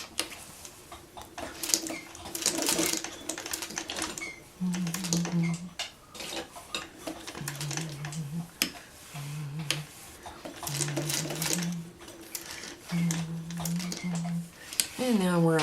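A sewing machine stitches fabric appliqué for a Churn Dash quilt block, running in short bursts of rapid humming with pauses in between, close by, while a person talks over it.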